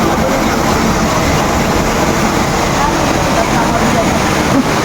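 Strong river current rushing steadily at close range, a broad continuous wash of water noise with no breaks throughout.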